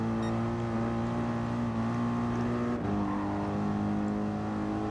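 A race car engine in Gran Turismo Sport holds a loud, steady high-revving drone, with a brief dip and pitch shift like a gear change near the middle before it pulls on again, and no voices.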